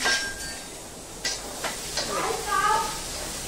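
Pav bhaji with soft tomato is stirred in a sizzling pan, with a hiss and a few scrapes and clinks of the spoon, close by over a steady background.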